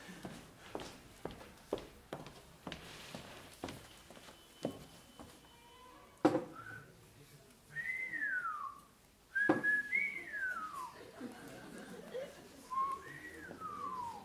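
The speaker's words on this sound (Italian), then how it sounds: "Lei ha fischiato." A person whistles a few short descending notes after a series of footsteps and knocks, the whistling clear and fairly close.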